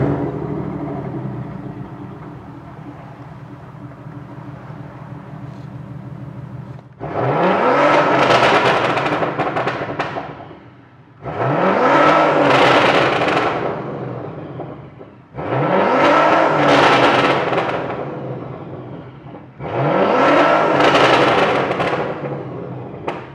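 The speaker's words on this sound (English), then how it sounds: "But can we get some revs?" A modified 607 bhp SEAT Leon Cupra revs hard four times in a row on a wet, dark evening. Each loud rising roar falls back to a rumbling idle between blips.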